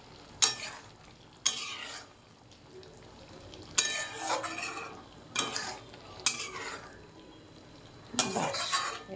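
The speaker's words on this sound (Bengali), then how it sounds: "চলো এবার একটু নাড়াচাড়া করে নিই হালকা করে।" Stirring mola fish curry in a frying pan: a spatula scrapes and clatters against the metal pan in several separate bursts a second or two apart, with a soft sizzle in the quiet gaps.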